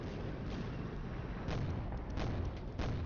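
Bombs fall on surface-to-air missile sites and ground pads in a war strategy game, making a continuous rumbling barrage. Several sharper booms land near the middle and end, and no one speaks.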